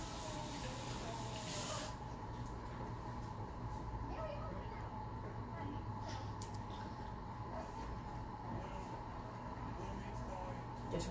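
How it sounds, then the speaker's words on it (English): A kitchen tap runs steadily as hands are rinsed while decorating a cake, a constant close hiss of flowing water heard alone throughout. "Gonna rinse my hands."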